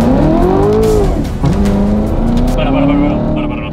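A Chevrolet car accelerates in a drag race, its engine note rising and falling loudly and close with a shift dip midway, while a person talks over it.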